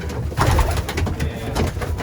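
A racing pigeon coos close by in a Canadian loft, a loud, throaty rolling coo repeating in short pulses, with no talking over it.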